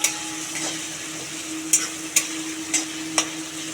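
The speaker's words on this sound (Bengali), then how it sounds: "এবার আমি সেগুলো দিয়ে দেবো দেখো পেঁয়াজ দিয়ে দিয়েছি" Onions frying in a pan while potato and pointed gourd wait nearby for a prawn curry, a steady soft sizzle with a low hum, broken by a few sharp stirring clacks.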